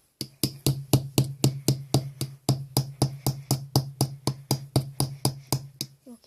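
Steady run of about two dozen sharp, evenly spaced taps of a hammer-like tool striking rock while digging for fossils, close and fairly loud with no talking.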